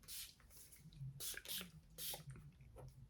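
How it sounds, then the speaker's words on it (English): Belle Disney princess perfume sprayed from a bottle in several short hissing bursts, quiet and close, with faint soft sounds between the sprays. "I may spray some Belle on just for shits and giggles."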